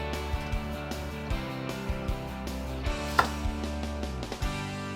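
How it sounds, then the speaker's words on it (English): A knife chops green onions on a cutting board, a series of irregular close, sharp taps, about a dozen in quick succession, set over a steady background hum. "So let's cut up our green onions"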